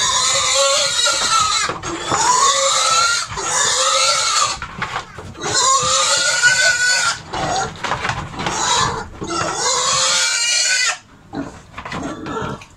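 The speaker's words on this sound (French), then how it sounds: "Nous sommes là pour apporter un traitement à ces porcs." Pigs squealing loudly and repeatedly while receiving a deworming treatment on a pig farm, with shrill, rising cries coming in long bursts separated by brief pauses, close to the listener and with no speech.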